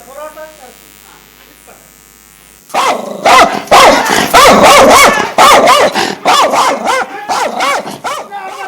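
A dog barks repeatedly and loudly up close at a roadside eatery after a quieter start, rapid yaps in quick succession with a buzzing noise mixed in.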